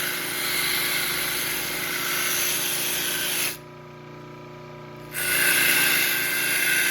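Band saw running at 1750 RPM and cutting wood for an intarsia box, a continuous whirring hiss that drops out briefly in the middle and then resumes, with no talk.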